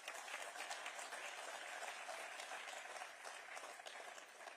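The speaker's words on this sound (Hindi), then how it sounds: "ताली नहीं मारेंगे।" An audience claps at a school partnership event in Uttarakhand, a dense, continuous round of applause that stays fairly even before easing slightly toward the end.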